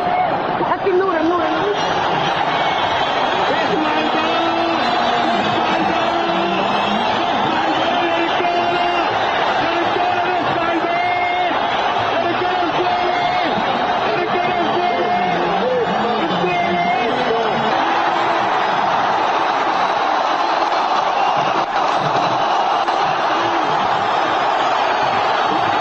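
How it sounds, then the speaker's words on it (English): A large crowd in Cairo roars and cheers at the news of Hosni Mubarak stepping down, a dense and steady wall of voices that continues without a break, with someone talking over it. "Listen to that crowd."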